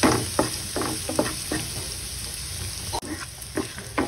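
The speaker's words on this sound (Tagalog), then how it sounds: "And then, saute lang po natin. Hintayin lang po natin mag-aroma ang ating bawang at sibuyas." Garlic and onion sizzle in a hot pan with a steady crackle, punctuated by the regular scrape and clack of a utensil stirring.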